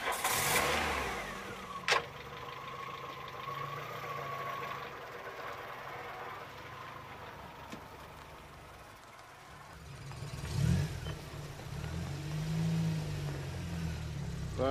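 A car starts and pulls away outdoors, its mid-range engine revving as it moves off and fades, with a few sharp knocks and a second engine swell near the end.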